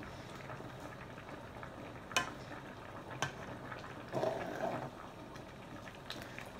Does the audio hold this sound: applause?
no